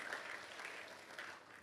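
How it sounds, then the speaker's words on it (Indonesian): A church congregation clapping in a short, dense burst of applause, even and continuous from start to finish, heard alone without talk and fairly faint. "Kasih tepuk tangan buat kemuliaan nama Tuhan."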